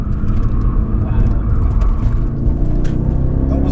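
An Audi RS4 is pushed hard through a corner. Its engine roars loudly and steadily close by, with tyre noise mixed into the roar, while people talk over it.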